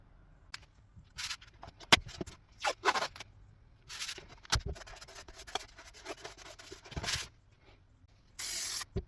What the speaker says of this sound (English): we sprayed on a bit of that glue, maybe a little bit too much